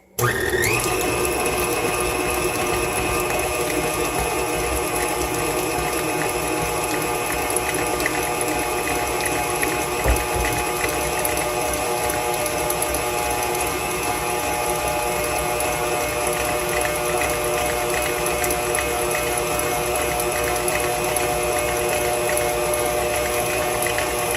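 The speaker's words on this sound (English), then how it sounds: "let's get this baby whisking" An electric mixer whisking homemade shaving cream with baking soda in a bowl switches on abruptly and then runs as a loud, steady, high whirring whine for over twenty seconds, alone.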